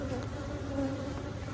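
Honey bees hum steadily inside an open hive during an inspection, a close, even drone with no pauses.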